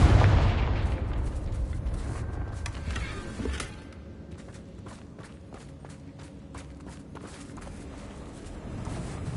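A Confringo blasting spell goes off in Hogwarts Legacy with a loud burst at the start, then fades into lighter combat rumble, with quick running footsteps and small pops following.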